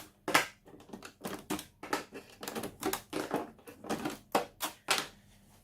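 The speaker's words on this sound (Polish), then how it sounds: "Słyszymy głowica wyjeżdża, wyłączamy zasilanie." An Epson XP-332 inkjet printer's print head moves out with a series of close, sharp mechanical clicks and rattling bursts in an uneven rhythm.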